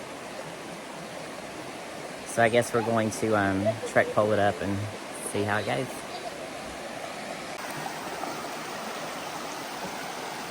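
A river stream flows steadily along a backpacking trail in Pisgah, a broad even wash of water noise running throughout, with a person talking briefly over it near the middle.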